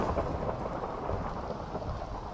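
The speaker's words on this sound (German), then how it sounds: "Jetzt geht's los, das gibt Blitze." Thunderstorm in the video game Minecraft, with steady heavy rain hissing and low rumbling thunder rolling underneath, continuous and fairly loud, without any talking.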